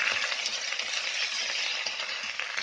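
Ginger, cumin and chili paste frying in a pan, a bright, hissing sizzle that holds steady and close for a couple of seconds, with no speech.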